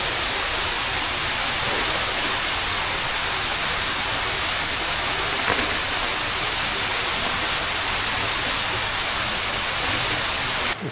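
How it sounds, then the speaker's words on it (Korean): Steady heavy rain falling on a camping tent shelter, a dense even hiss that holds without pause from start to end, close and fairly loud, with no talking. "자는데 빗소리가 많이 나가지고 일어났습니다."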